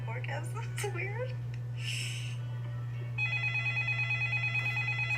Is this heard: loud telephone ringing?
yes